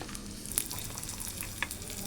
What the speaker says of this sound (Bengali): এ দেখো মশলা মিক্সচারে করে রেখেছিলাম, এটাকে নাড়াচাড়া করে লাল লাল করে নেবো